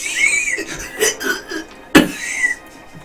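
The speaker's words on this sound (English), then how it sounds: "As it coughs in the corner." A single sharp cough bursts out once, fairly near and loud, over a steady background hiss, with faint murmuring around it but no clear speech.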